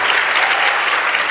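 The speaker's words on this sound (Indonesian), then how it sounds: "Good, tepuk tangan." An audience of students claps at a school leaders' meeting, a dense, loud, continuous burst of applause with no pauses.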